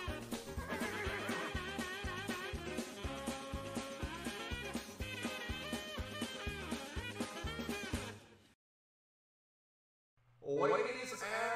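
Horses neighing as a derby race sound effect: a long, wavering whinny over a rhythmic, pulsing musical backdrop, then a short silence before another loud neigh bursts in at the end.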